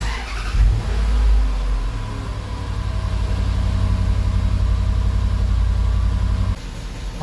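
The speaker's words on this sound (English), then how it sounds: "I have now cleared the codes and we'll attempt to start it again." An L320 Range Rover Sport with a misfire on cylinder seven starts and revs, a loud, close engine roaring up and holding a steady raised drone for several seconds before dropping back.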